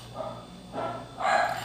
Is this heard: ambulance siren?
no